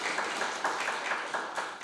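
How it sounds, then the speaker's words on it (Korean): A church congregation applauds with dense, steady clapping that swells in a loose rhythm for a couple of seconds. "박수를 보냅니다"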